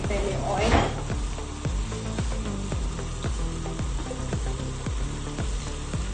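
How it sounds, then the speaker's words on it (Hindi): Mutton with tinday (round gourd) fries in ghee and oil in a pot, giving a steady close sizzle with a louder hiss early on. Beneath it runs a repeating musical pattern, and a voice speaks over it. "अब इसको अच्छे से हमने पहले घी में भूनना है"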